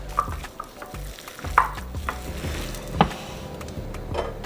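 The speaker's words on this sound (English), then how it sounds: "we're just gonna go ahead and sear it up" Cheesesteak meat searing in a very hot oiled pan, a continuous close sizzle with intermittent scrapes and clanks of a utensil stirring it, no talk.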